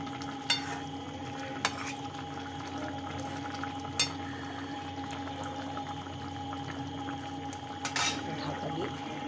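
Pabda fish curry with potatoes being stirred in a pan, a soft steady simmer with a few sharp spoon clinks against the pan scattered through.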